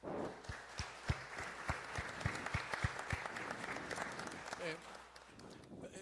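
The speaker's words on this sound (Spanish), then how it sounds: "los recibimos con un fuerte aplauso, por favor" An audience at a panel discussion applauds, with sharp distinct claps in the first half blending into a fuller round of clapping that softens toward the end, fairly faint and distant.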